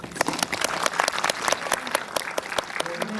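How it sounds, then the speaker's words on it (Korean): An audience claps at a post-screening talk for the film Farewell My Concubine, giving dense, steady applause from a small crowd for about three seconds with no one speaking over it. "그럼 박수를 한번."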